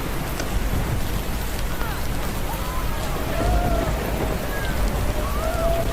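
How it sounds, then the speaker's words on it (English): Heavy rain from record storms in Yunnan, China pours in a dense, constant roar, with rushing floodwater beneath it and no voices. "Rain kept falling, and the water kept rushing in"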